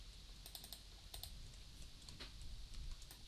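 Typing on a computer keyboard while designing a web page footer, quick clusters of crisp key clicks in short irregular bursts, close and clear, with no talking.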